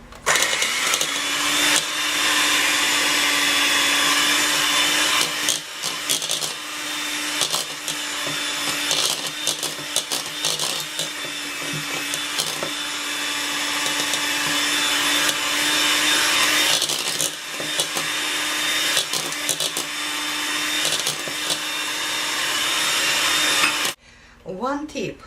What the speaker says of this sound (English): And the next are the egg yolks. I will still use my hand mixer.